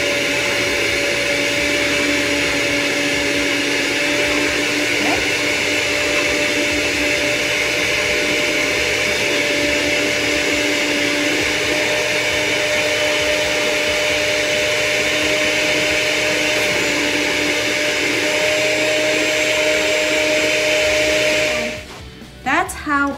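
An electric knife slices homemade white bread with a steady, loud, high-pitched motor whine and buzz that runs on without a break and then cuts off abruptly near the end.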